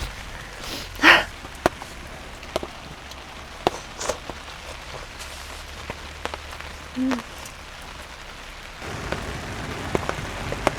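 Rain patters steadily on a camping shelter at night, a continuous close hiss broken by scattered louder drips and taps on the fabric, with a few faint handling noises.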